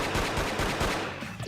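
Gunshots ring out in the video game Persona 4, a rapid burst of several sharp cracks in quick succession, loud and close, with no talking over them.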